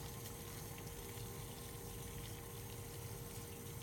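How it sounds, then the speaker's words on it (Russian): A pot of plain water boiling on a stove for poaching eggs, a steady low bubbling rumble with faint hiss, continuous and fairly quiet throughout with no talk. "Это просто кипящая вода."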